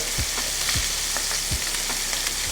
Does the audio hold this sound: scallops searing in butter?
yes